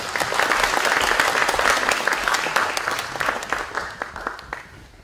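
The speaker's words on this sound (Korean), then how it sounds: "뜨거운 박수로 환영해 주십시오" A lecture audience gives sustained, dense applause to welcome a former South Korean unification minister, a steady wash of many hands clapping at close range that thins slightly near the end.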